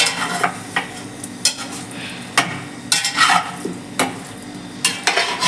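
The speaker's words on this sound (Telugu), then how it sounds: "కొంచెం లైట్గా వేయించాలి" Mutton for Kuwaiti machboos is stirred in a hot pan with repeated scraping, clinking strokes over a low, steady sizzle, close and without talk.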